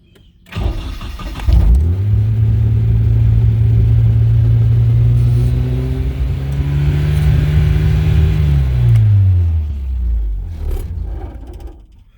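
A car engine starts and holds high revs in a loud, steady drone for several seconds, then the pitch falls away as the revs drop and the engine settles.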